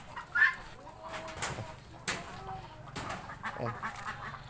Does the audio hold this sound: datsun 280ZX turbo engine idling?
no